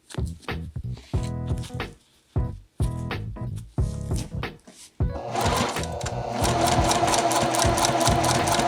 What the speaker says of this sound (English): Just overlapping my stitches and pivoting in this corner down here of my hem.